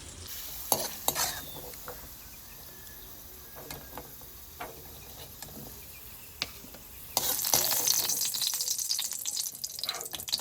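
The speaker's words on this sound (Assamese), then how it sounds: "এতিয়া আলুখিনি ৰঙচুৱাকৈ ভাজি লম" Potato pieces fry in a pan with a soft crackle and scattered clicks of stirring, the sizzle swelling louder and denser in the last few seconds.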